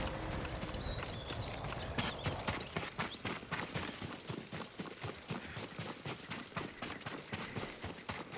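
Rapid, rhythmic hoofbeats of a horse at a run clatter steadily and loudly throughout, with no talking over them, in the video game Ghost of Tsushima.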